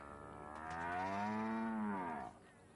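A cow in the video game Black Desert lets out one long, drawn-out moo, steady and fairly loud for about two seconds before trailing off into quiet background.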